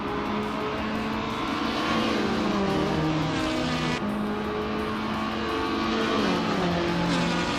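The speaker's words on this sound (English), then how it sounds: "Hingle McCringleberry is taking off from pole in the TCA class, driving a 2016 Volkswagen Jetta" A 2016 Volkswagen Jetta race car takes off from pole in the TCA class of a racing video game, its engine droning steadily and loudly with shifting tonal revving alongside other cars, no talk.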